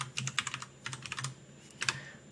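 Computer keyboard typing a layer name in Photoshop, three quick bursts of crisp close key clicks separated by short pauses, faint and with no talking.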